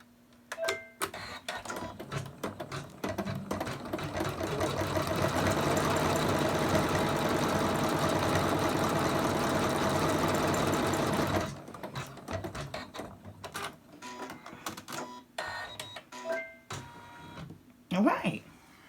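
An embroidery machine stitches out a Christmas angel design, a steady mechanical whirr running for several seconds in the middle, with a person talking and handling things before and after.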